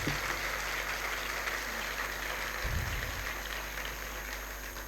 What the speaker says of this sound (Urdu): تو یسوع نام کے لیے زوردار تالیاں ہو جائیں جی، زوردار تالیاں